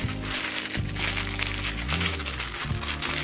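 Plastic packets of beads from a bead embroidery kit are handled and squeezed, giving close, busy crinkling and crackling that runs continuously, with a soft low hum underneath.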